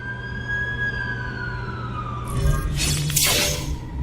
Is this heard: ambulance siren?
yes